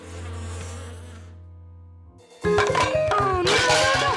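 Cartoon bees buzz loudly around a hive, a dense droning swarm over lively background music that breaks off and then resumes with a burst of brighter music.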